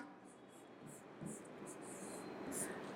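Handwriting scratches softly across paper in several short strokes with brief gaps between them, faint and close against a quiet room hiss.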